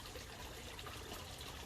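Steady gentle trickling and bubbling of garden pond water, continuous and soft at low level, with no voices over it.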